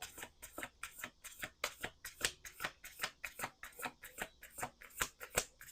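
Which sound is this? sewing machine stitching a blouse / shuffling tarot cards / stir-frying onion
shuffling tarot cards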